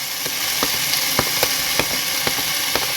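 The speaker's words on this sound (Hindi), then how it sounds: "शिमला मिर्च को भी हम थोड़ा सा और फ्राई कर लेंगे इन सारे इंग्रेडिएंट्स के साथ" Chopped capsicum and other vegetables sizzle steadily in a pan, with a crisp, close frying hiss punctuated by regular sharp clicks of a utensil stirring every few tenths of a second.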